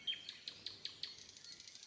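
A small bird drinking at a water fountain gives a quick run of about eight bright, evenly spaced chirps, fairly faint and alone against a quiet background.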